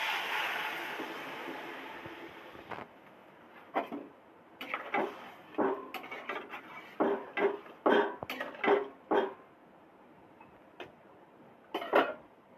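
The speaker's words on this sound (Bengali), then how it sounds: "সব তো মশলা ভাজা হয়ে গেছে, তেল ছেড়ে গেছে, এবার পরিমাণ মতো জল দিয়ে দেবো।" Water goes into a pan of oil and fried spices for a hilsa fish curry, giving a steady sizzling hiss for a few seconds, then a run of sharp metallic clinks and taps from a utensil against the pan.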